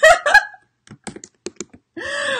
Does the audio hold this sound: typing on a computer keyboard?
yes